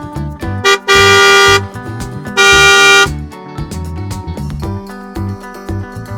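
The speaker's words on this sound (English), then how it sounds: "Passenger car." Passenger car horn honking in two long, loud blasts separated by a pause, with a lower engine-like rumble running underneath.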